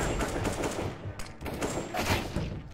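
Rapid bursts of automatic gunfire in a first-person shooter game ring out loud and close, in dense rattling volleys broken by brief pauses, with no talk over them.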